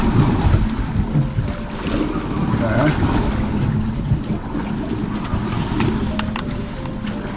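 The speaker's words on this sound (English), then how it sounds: "Those were some pretty fierce waves, probably some 4-footers." Big ocean waves off Alaska pound a small halibut fishing boat near Juneau, giving a loud, continuous rush of wind, water and hull noise with irregular splashes. A person speaks briefly.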